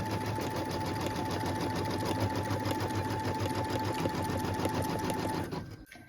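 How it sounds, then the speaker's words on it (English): Sewing machine runs steadily, stitching a placement line on felt with a fast, even mechanical whir and rattle that stops abruptly at the end. "I'm going to go ahead and let that stitch around"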